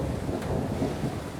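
Steady rain falling, a dense continuous hiss and patter with low rumbling texture throughout, heard alone with no voices.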